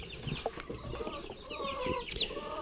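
A young chick that had a splayed leg clucks and peeps softly while being handled up close, with a sharp high cheep near the end and faint handling noise underneath.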